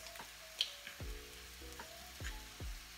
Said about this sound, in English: we're going to crack the egg into this, the same saucepan we used the mushrooms